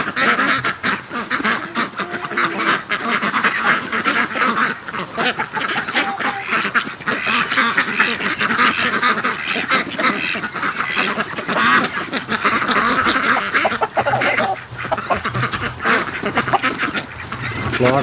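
A flock of Muscovy ducks returning home to a lakeside, quacking and honking loudly and continuously, many birds calling over one another close by for the whole stretch.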